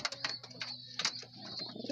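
A racing pigeon, a few soft coos and faint calls close by amid quiet surroundings, with no talking.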